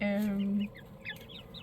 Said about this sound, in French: je suis avec mes poulets